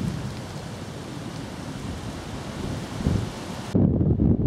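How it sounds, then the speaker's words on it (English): Strong gusts of wind roar across a muddy countryside walk at the tail end of a storm, a steady close rushing that swells into heavy buffeting on the microphone near the end. "we've still got quite strong winds, tail end of the storm"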